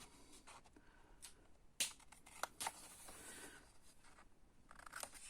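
Scissors snip through paper card for a Christmas gnome scrapbook page, several quiet, crisp cuts and rustles spaced irregularly at close range with no talking.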